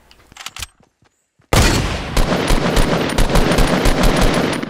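Rapid automatic gunfire from a Fortnite battle royale match bursts in loudly after a short quiet gap, following a few earlier scattered shots, then rattles on in dense repeated volleys to the end.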